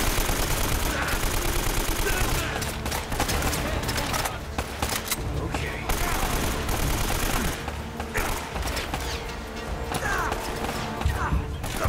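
Dense gunfire in the video game Uncharted: Drake's Fortune Remastered, with rapid automatic bursts and single shots overlapping, loud and nearly continuous, mixed with impact crashes and clatter.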